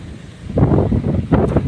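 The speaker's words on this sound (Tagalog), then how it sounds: "Lakas ang hangin dito, ang sarap." Strong gusts of wind buffet the microphone in low, rumbling bursts, with a brief lull between two heavy blasts.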